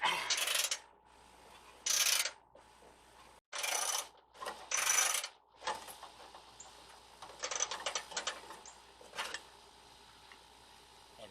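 A ratchet wrench works a car bumper bolt loose, sounding as bursts of rapid clicking separated by pauses, close and fairly loud, with lighter ratcheting and handling noise toward the end.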